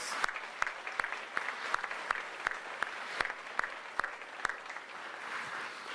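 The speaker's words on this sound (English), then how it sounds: "Let's give those guys a round of applause." A rally crowd in North Carolina gives a round of applause for military veterans; the clapping is faint and distant, heard as a sparse, fairly regular run of individual claps over a low murmur.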